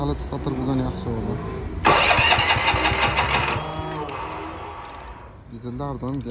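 A diesel motoblock engine cranks and catches with a loud burst, then chugs and settles toward a rough idle, with someone talking before and after it starts.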